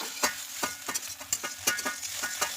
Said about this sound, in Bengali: ডিমটা একটু ভালো করে ভেজে নিয়ে